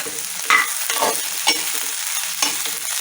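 Slit green chillies fry in a pan for Christmas duck pepper with a steady, close sizzle, broken by a few sharp spatula scrapes and stirs.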